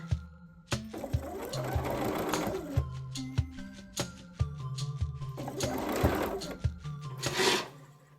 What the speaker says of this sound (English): I'm gonna sew the side panels together.